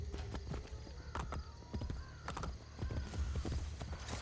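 Hooves clip-clop in an uneven trot as a horse is mounted and ridden in Assassin's Creed Brotherhood, with a brief whinny and creaking tack, all fairly quiet.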